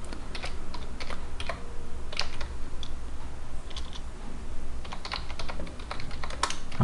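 Fast, steady typing on a computer keyboard, close and clear: continuous light key clicks with occasional louder taps over a low background hum, and no voices.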